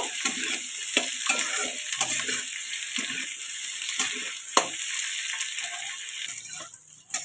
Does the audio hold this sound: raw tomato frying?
yes